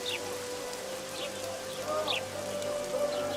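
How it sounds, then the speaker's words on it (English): Continuous rainfall in The Witcher 2: Assassins of Kings, a soft steady patter of drops with faint chirps nearby and a low hum beneath, no speech. "I said it would rain."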